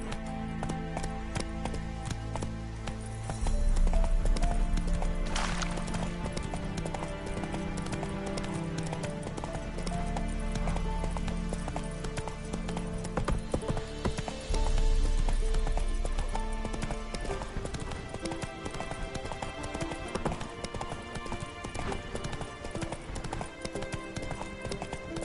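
The horse Roach galloping in The Witcher 3, with a fast, continuous drumming of hooves, loud and close, rising and falling in intensity over a layered game soundtrack.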